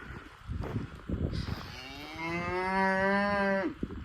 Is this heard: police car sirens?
no